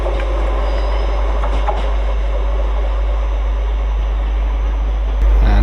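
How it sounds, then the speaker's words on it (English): An LNER Azuma train, unit 801220, pulls away for Edinburgh on the East Coast Main Line, its steady loud rumble and rail roar filling the whole stretch. A sharper surge comes near the end. "So this is 801220 leaving for Edinburgh."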